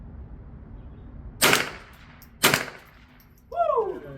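Two sharp .22LR gunshots, about a second apart, crack out at an outdoor steel-target match at 25 yards. Each is loud and brief with a short tail, followed by a quick spoken voice.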